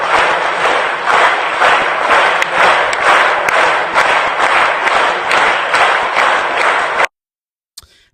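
An audience claps in steady unison, a loud rhythmic beat of many hands with crowd noise underneath, continuing for several seconds before stopping abruptly.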